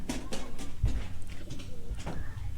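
Domestic pigeons cooing inside a bamboo-built pigeon farm shed, repeated soft rolling coos overlapping at close range, steady and fairly loud with no talk.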